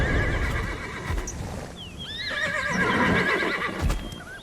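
Frightened horses in the video game Black Desert Online whinny and neigh loudly over shuffling hoof clops, with several overlapping calls midway.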